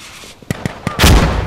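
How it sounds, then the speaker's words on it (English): Gunfire and a grenade blast in the video game Insurgency, with a few sharp close shots followed by a loud, full explosion that rumbles on to the end. "Grenade out!"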